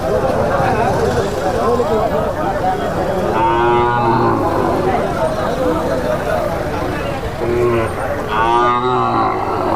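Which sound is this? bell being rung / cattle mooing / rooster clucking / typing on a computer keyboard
cattle mooing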